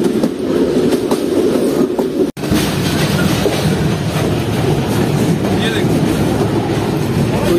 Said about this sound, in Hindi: तो कुछ इस तरह की स्पीड है ट्रेन की, हमारी 55 तक जा रही है